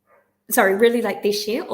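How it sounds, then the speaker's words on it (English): A dog barks and yips loudly and close by in quick, uneven bursts, with no other sound in between. "Sorry, the dog's barking."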